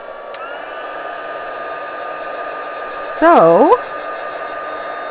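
A handheld heat tool hums steadily while a paper card is heated, held with tweezers, a constant airy whir running throughout, with a brief voice and a short squeaky sliding sound near the end.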